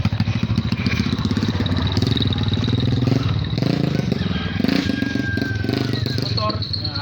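A motorcycle engine runs steadily close by on a rural road in Quezon province, with rattling and clatter, while people talk over it throughout.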